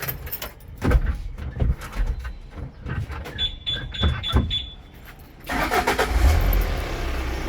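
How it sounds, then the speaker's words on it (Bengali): A fresh-condition used car with 2024 registration being started up: a starter crank and catch near the end, then a steady engine idle close by, after some clicks and knocks of the car being handled. "গাড়ির ইঞ্জিনের সাউন্ড"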